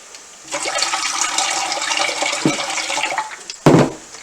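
Water pours steadily into a cooking pot for pork, pepper and zucchini mac, a continuous broadband splashing rush lasting several seconds, followed by a brief louder clatter near the end.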